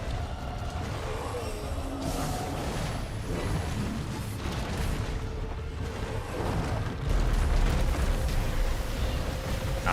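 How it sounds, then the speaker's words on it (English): Rumbling follow-up explosions from a monster in Monster Hunter World: Iceborne roll on continuously and loudly for the whole stretch, with deep booming layered under crackling debris and growing heavier near the end. "I forgot he does the follow-up explosions there."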